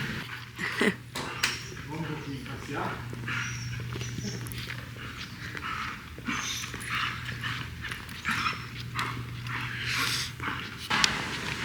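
A dog out on a walk in Brazil, giving soft whimpers and panting breaths near the listener amid footsteps and light outdoor ambience, with a steady low hum running underneath.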